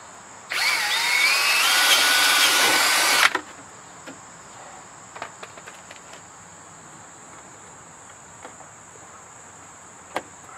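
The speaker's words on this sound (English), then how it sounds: "I'm going to go inside of that to drill." A power drill whirs loudly for about three seconds while drilling into a flange during a mud guard install on an RZR 900XP, then stops, followed by faint clicks and taps over a steady high hiss.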